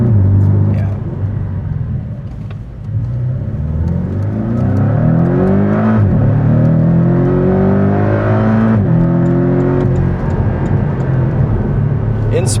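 A 2019 Porsche 718 Cayman with PDK gearbox revs hard and loud, its engine note climbing in repeated sweeps with quick gear changes between, while people talk over it inside the car.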